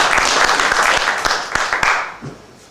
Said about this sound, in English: please a big applause for Bas Wisselink